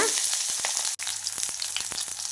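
Onion frying in hot oil with cloves and cinnamon for mint biryani, a steady close sizzle with a few quick stirring scrapes and one brief break partway through.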